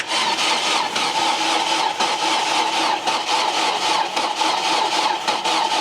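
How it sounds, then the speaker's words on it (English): An old car that has sat unused for several years runs after starting, its engine holding a steady, even drone close by with the air conditioning on full, and no one talking. "That sounds really good for a car that's been sat for several years."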